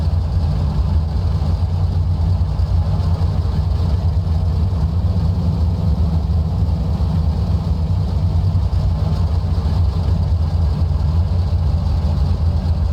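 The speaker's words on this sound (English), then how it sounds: "We'll just leave the engine here idling around 1100 RPM" A P-47D Razorback's radial engine idles at around 1100 RPM in a flight simulator game, a loud, steady low drone that holds an even throb for the whole stretch.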